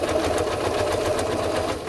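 A sewing machine runs steadily, stitching along a curve in a fast, even mechanical whir and rattle, close and continuous with no talk.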